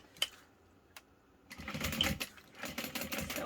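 A sewing machine stitches a zipper onto a backpack, a couple of faint clicks before the motor starts into a steady close whirring run of needle strokes, quiet overall and with no talk.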